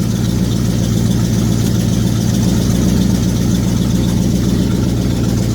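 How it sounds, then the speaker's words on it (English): Chevrolet Camaro engine idling in neutral with a newly fitted wide exhaust pipe under the car, a steady, loud low rumble that holds without revving throughout. "Finished up the wide pipe, it's under the car, that's why you can hear the joyful noise."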